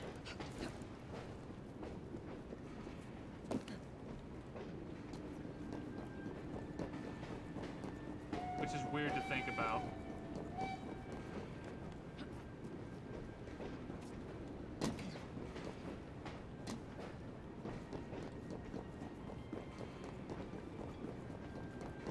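Train in the video game Assassin's Creed Syndicate, a steady faint rumbling run with repeated clacks and a brief whistle-like tone, under a person talking.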